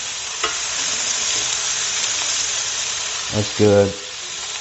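Meat and sausage brown in a pan with a continuous close sizzle and hiss. A brief spoken comment comes near the end, and a few utensil clinks break through the frying.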